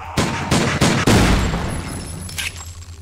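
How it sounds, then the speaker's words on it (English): Gunshots ring out in the VR zombie survival shooter VRZ Torment played on an HTC Vive: four sharp, loud blasts in quick succession, each followed by a short echoing tail, then quieter clicks and game sounds. "Six shots."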